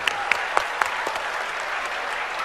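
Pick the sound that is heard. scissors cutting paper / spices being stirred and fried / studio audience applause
studio audience applause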